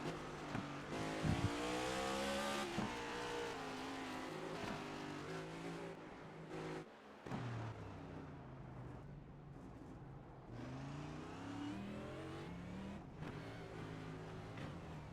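Onboard a NASCAR race car at Long Beach, the engine loudly revs and drops as the car brakes and accelerates through a hairpin, pitch falling then climbing steadily, with a brief sharp dip mid-corner.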